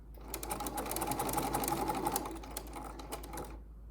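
A sewing machine zigzag-stitches down the side of a buttonhole on its own, giving a close, rapid, even mechanical clatter of needle strokes with a faint hum under it, and it stops sharply near the end.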